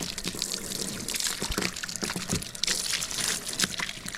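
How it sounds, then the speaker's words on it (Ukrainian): Cold water splashes and trickles steadily nearby as feet are washed, a continuous wet pouring with small irregular splashes and no talking. "Але ці робочі ноги помити треба"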